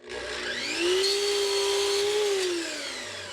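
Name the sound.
cutting crown molding to length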